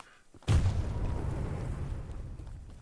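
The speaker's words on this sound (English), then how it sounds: "You guys don't look at explosions!" An explosion in Choo Choo Charles goes off with a sudden loud boom and then a long, fading rumble, with no talk over it.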